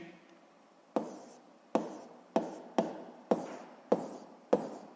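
A hand writes out a physics calculation by hand: about seven short, sharp scratchy strokes at an uneven pace, close and quiet, with no talking.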